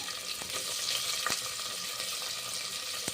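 Onions sizzle and crackle in hot oil for a vegetable pulao, a steady close frying hiss with a few sharp spatters and stirring clicks, with no voice over it.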